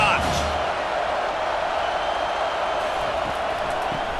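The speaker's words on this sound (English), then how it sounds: "this crowd is turning it up a notch" College football stadium crowd at a USC vs Michigan game, a loud steady roar of cheering fans filling the air as one continuous wash of noise, with no distinct single voices standing out.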